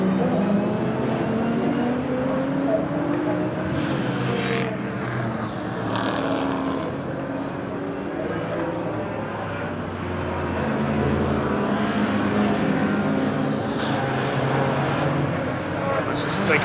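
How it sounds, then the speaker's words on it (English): Racing car engines at Brands Hatch circuit roar continuously, a loud mix of revving motors rising and falling as cars pass, with a commentator's voice partly over the engine noise. "Take a pause there and listen to these wonderful engines."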